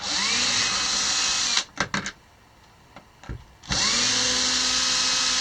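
A power drill backs screws out of an RV living room light fixture, whirring loudly in two steady bursts with a quieter gap of small clicks and taps between them.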